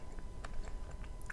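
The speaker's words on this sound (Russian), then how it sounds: "Откусывается сухо, затем такой жирный." Someone bites into a dry, rich Raffaello-style coconut-and-almond sweet and chews it close to the mic, with soft crisp crunches and moist mouth sounds repeating over a quiet background.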